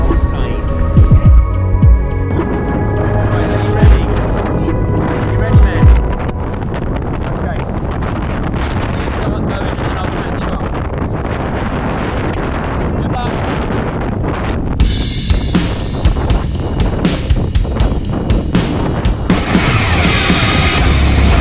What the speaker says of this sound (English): It's freezing and it's so windy.